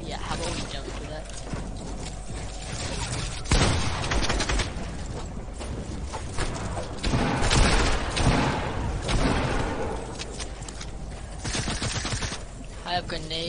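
Grenade explosions and gunfire in a Fortnite boxfight/zonewars match, dense bursts of blasts and rapid shots layered over busy game noise with speech across the clip.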